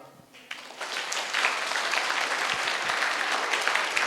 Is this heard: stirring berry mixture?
no